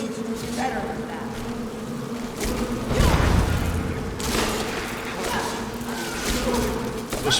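Bees buzzing in the game Skyrim, a continuous droning hum of insects around fruit, with swells and a louder rush partway through, mixed with game ambience.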